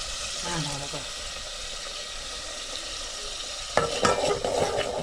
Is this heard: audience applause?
no